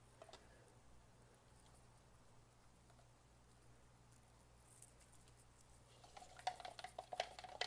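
Casting resin being stirred in a cup, a soft scraping patter that grows louder and busier toward the end, with a steady low hum underneath.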